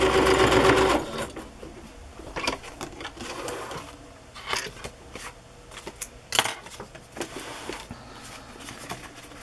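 Sewing machine stitching an embellishment in place on a craft project, a short loud burst of fast rhythmic stitching at the start followed by quieter scattered clicks and handling sounds.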